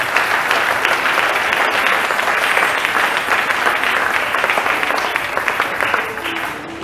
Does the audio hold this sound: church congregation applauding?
yes